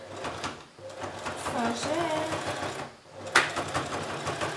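A sewing machine labours and strains while stitching a hand-sewn dog leash, its motor running steadily at close range with a brief pause before it picks up again, and faint talk mixed in.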